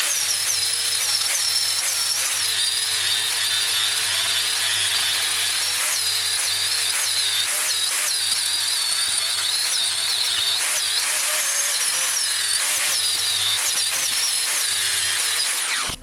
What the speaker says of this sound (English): Let's give that a clean up with the angle grinder